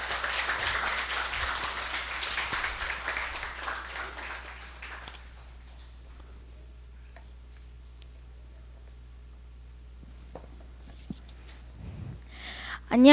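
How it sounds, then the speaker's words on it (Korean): At a Korean church Sunday worship service, a congregation gives brief applause to welcome an eleven-year-old child coming up to speak. The clapping lasts about five seconds and then fades into near silence broken by faint small movements. "사랑과 격려의 박수로 환영해 주시기"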